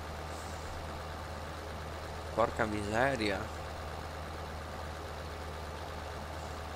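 Tractor engine idling steadily in a farming video game, a low continuous hum running throughout while a man briefly exclaims over it.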